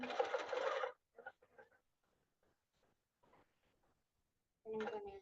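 A sewing machine fitted with a couching foot runs in two bursts, about a second at the start and again near the end, with soft, faint speech in the quiet gap between.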